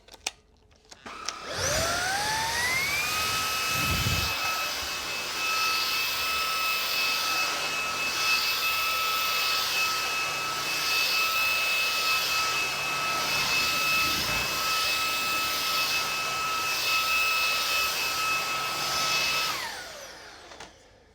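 A Sebo Balance A1 cordless vacuum cleaner spins up over a couple of seconds to full power, then holds a loud, steady whine with a high motor tone for nearly twenty seconds before winding down, with no one talking.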